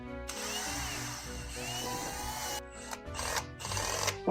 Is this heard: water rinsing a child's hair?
no